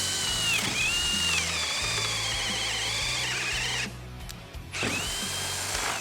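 A TECCPO 20V cordless drill driver whines steadily as it bores into wood, its motor loud and close, then labours and bogs down briefly before spinning back up to speed.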